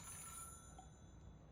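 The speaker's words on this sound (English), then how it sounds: "But I heard the phone, but I don't see a phone in this whole room." Telephone bell ringing inside an office in the video game Control, faint and distant, a steady trill under a low room hum, with no voices.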